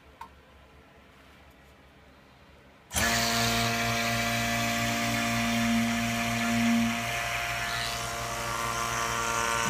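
A vacuum pump starts abruptly after a few quiet seconds and then runs with a loud, steady mechanical drone and hum as it evacuates air from a chamber holding water, with no talking.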